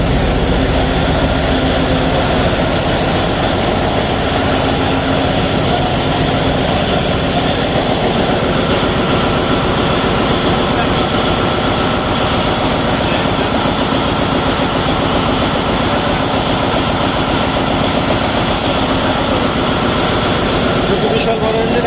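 A large diesel engine on a Barisal-route river launch drones loud and steady, with a dense, unbroken rumble and mechanical whine that fills the engine room without any letup.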